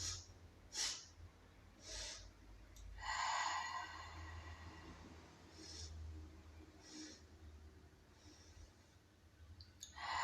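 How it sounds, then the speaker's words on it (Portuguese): A person does a breathing exercise, drawing air in three short sniffs and then letting it out slowly through a relaxed mouth, in soft, close, quiet repeated breaths. "puxar o ar 3 vezes e soltar tranquilamente com a boca relaxada"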